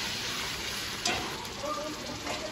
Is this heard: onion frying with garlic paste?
yes